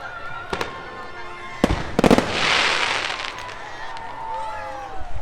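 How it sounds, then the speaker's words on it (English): Daytime fireworks at Disneyland go off as several sharp, loud bangs and crackling bursts, with a brief cluster of pops near the middle and a fainter scattered crackle after it, set against an outdoor theme-park crowd background. "I don't know why they just did fireworks in the daytime, but they did."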